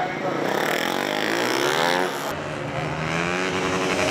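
A motorcycle at a gymkhana competition running a tight course, its engine roaring loud and near with rising and falling revs through turns, under an announcer's running commentary.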